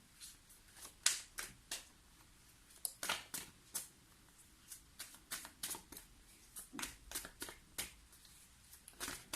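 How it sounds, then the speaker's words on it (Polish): Tarot cards are drawn from a deck in a quiet room, producing a steady series of soft, crisp flicks and slides, close and faint, with no talk. "Ja Wam jeszcze wyciągnę kartę dodatkową"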